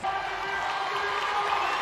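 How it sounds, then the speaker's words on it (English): A crowd cheers and shouts steadily at a CrossFit-style semi-final event as an exhausted athlete struggles through his last reps, a dense, loud, continuous roar. "The crowd getting behind him to finish"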